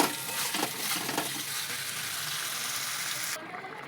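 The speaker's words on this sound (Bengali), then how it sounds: "তরকারিটা কষানো হয়ে গেছে" Pomfret, pumpkin and potato curry sautéing in a pan gives a steady, close sizzle with faint stirring scrapes, then drops off sharply near the end.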